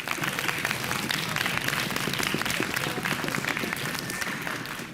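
A studio audience applauds a quiz team on a Slovenian game show, dense continuous clapping at close range that holds steady for the full five seconds with no talk over it.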